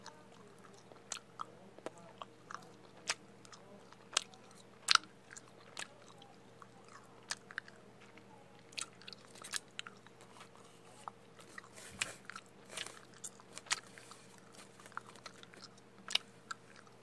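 Chewing gum is worked over by a mouth wearing braces, producing soft, irregular close-up smacks and crunchy clicks against a quiet, faintly humming background, with no talking.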